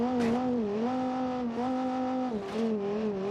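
A donk truck in BeamNG.drive accelerates, its engine whining with clear tones that climb, dip and climb again as it revs through gears, loud and alone with no talk.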